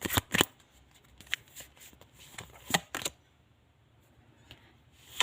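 Tarot cards being shuffled by hand before a final card is drawn, a run of crisp riffling snaps and papery flutters in quick bursts, close and fairly quiet, then a softer pause with a few last flicks.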